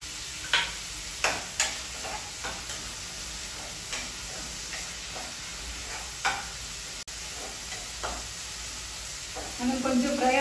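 Curry leaves crackle in hot oil with onions in a pan, giving a steady sizzle broken by sharp pops spaced through the clip, close and moderately loud.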